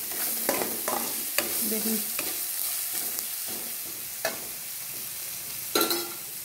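Chopped onions with a pinch of salt sizzle steadily in a pan, softening and browning while a utensil stirs and scrapes them in sharp, irregular knocks. A single brief spoken word is heard.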